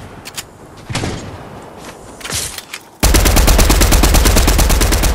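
Gunfire in the Fortnite video game: a few scattered shots and impacts, then a loud, rapid, sustained burst of automatic fire that runs to the end.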